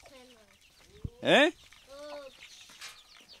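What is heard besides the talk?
rooster clucking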